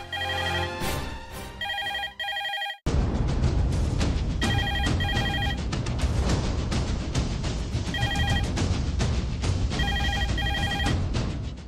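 A telephone rings in a home, bursts of bright electronic trills repeating in clusters, the first under a short music passage and the rest over a loud, dense music bed.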